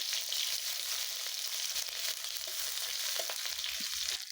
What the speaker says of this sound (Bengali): পেঁয়াজগুলো আমার ভাজা হয়ে গেছে, লাল লাল হয়ে গেছে।